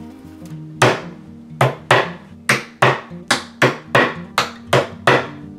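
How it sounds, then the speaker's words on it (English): A series of sharp hammer strikes driving T-nuts into wood, about ten blows in a fairly steady rhythm, close and loud with brief ringing decay after each hit. "put them in the holes in the bottom and knock them in with a hammer"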